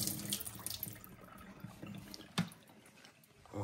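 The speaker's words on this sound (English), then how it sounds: "so I'm going to just filter out some tap water." Tap water runs steadily into a Water2 filter, a soft continuous splash and trickle heard close but quiet, with a brief louder knock partway through and no talking.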